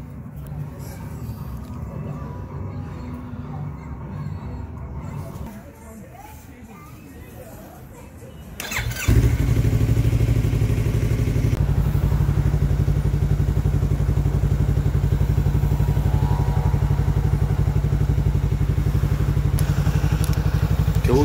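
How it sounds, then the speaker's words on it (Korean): A Yamaha MT-03 motorcycle with temporarily spliced wiring cranks and fires up after some clattering handling noises, then settles into a loud, steady running engine that stays close for the rest of the stretch. "시동은 터뜨려서 제 게러지까지 갔습니다"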